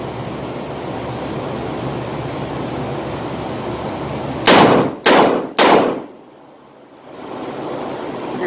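Three loud, close shots from a .357 Magnum revolver fired at about 7 yards on a training range, spaced roughly half a second apart, each a sharp broadband crack over steady outdoor noise.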